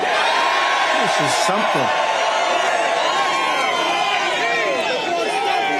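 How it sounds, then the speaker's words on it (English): Crowd at a Trump rally in the South Bronx roaring and cheering continuously and loudly, with whoops and chatter throughout while someone speaks over it. "What a crowd."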